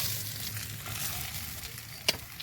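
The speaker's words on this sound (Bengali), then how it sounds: "মাছগুলো আমার লাল লাল করে ভাজা হয়ে গিয়েছে।" Fish fry in oil in a pan, a soft steady sizzle with faint crackles and one brief louder pop near the end, quiet and without talk.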